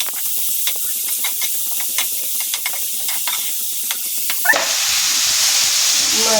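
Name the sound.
masala sizzling while sautéing for fish curry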